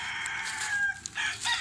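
Rhode Island mahogany chickens on a farm cluck and crow, fairly loud and close, in one short continuous stretch of calls with no talking.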